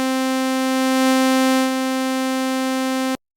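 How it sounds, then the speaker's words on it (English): A synthesizer's second oscillator plays a single sustained saw-wave note, dry with no effects, bright and buzzy with a dense stack of harmonics, held steadily for about three seconds before stopping abruptly. "It sounds exactly the same because both oscillators have a saw waveform selected."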